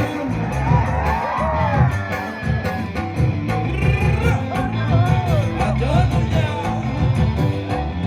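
A lively crowd at a Manas festival programme in Baksa cheers and shouts, with whoops and overlapping voices rising and falling over a noisy background for several seconds.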